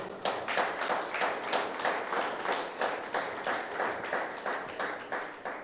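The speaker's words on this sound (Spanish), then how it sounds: "Denle un aplauso, por favor." Church congregation applauding during a Spanish-language sermon, many hands clapping in a steady, even beat that holds for several seconds at moderate distance.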